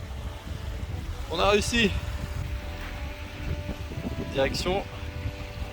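Strong outdoor wind buffeting the microphone near a lake during an autumn road trip in Algonquin, a steady low rumble throughout while people speak French briefly over it.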